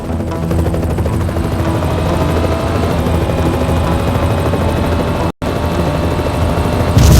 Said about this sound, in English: Michael, that helicopter is heavily armed